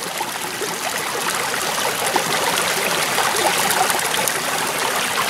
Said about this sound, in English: So there you can see the water flow coming through, eating up that material